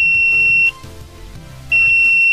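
A vibration-sensor anti-theft alarm shrieks with a loud, piercing electronic tone close by. The tone cuts out for about a second, then resumes at full volume, with no voices.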